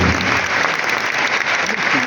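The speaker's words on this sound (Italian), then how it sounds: "E soprattutto un grande applauso per Alice Liberale" A festival audience at a film presentation claps loudly and steadily, a thick continuous wash of many hands with faint voices underneath.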